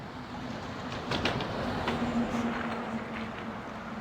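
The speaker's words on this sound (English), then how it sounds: "That train here is a one line." A New York City subway 1 train rumbles steadily past in Harlem, loud and close, with a rattling broadband roar and faint squealing tones from the wheels.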